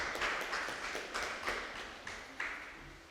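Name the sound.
audience applause at an awards ceremony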